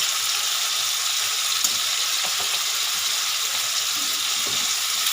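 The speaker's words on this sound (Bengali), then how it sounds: "এবার আমি এটা এই মশলাটা সুন্দর করে কষাতে থাকবো ওই ধরুন দু তিন মিনিট" Spice paste with turmeric sizzles steadily in a pan, a continuous bright frying hiss with occasional soft stirring scrapes, close and alone.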